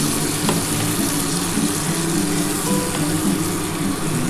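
Spice paste thinned with a little water sizzling hard in a pan for a Bengali shukto, a dense continuous fry with stirring, close and loud, with no voices.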